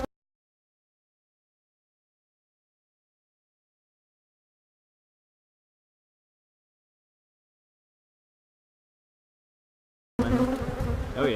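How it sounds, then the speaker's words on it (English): Honeybees buzz over an open, full three-deep hive during an early-spring inspection. Long silence comes first, then a close, steady droning swarm begins only in the last second or so. "this many bees up top"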